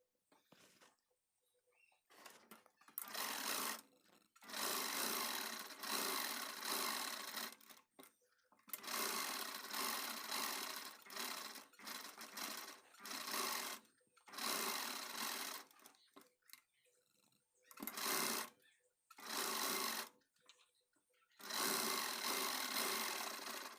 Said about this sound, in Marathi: आता आपल्याला इथे कडेकडेने टिप टाकून घ्यायची